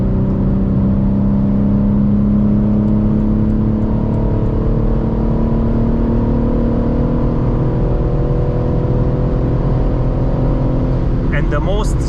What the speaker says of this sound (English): I'm in 6th gear and I accelerate